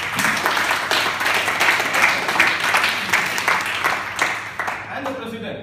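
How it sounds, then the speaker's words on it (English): Toastmasters meeting audience breaks into sustained applause, dense overlapping claps from a roomful of people held for several seconds before tapering off. "You would give a round of applause."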